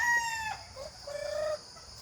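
Chickens at feeding time, rooster crowing and hens clucking: a drawn-out crow, then a short cluck and a second lower crow, fairly close, with no talk.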